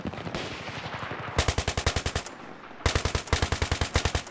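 Two long automatic bursts from an L85A2 rifle in Battlefield 3, loud evenly spaced shots in quick rhythm, preceded by fainter, softer gunfire in the background.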